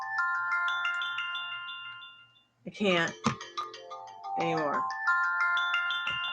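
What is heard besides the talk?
alarm ringtone ringing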